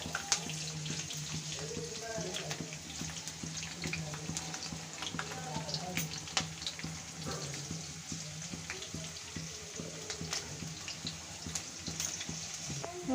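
Garlic and ginger frying in oil for paneer fried rice give a faint, continuous sizzle with light stirring clicks, under a steady low hum in a home kitchen.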